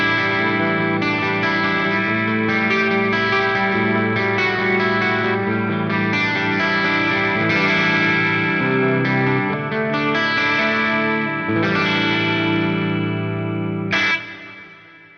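Clean electric guitar played through a Fractal FM3 modeler with a dimension chorus effect, shimmering strummed chords and picked notes ringing continuously, loud and close, ending with a final struck chord that fades out.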